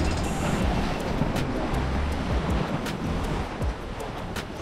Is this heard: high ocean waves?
yes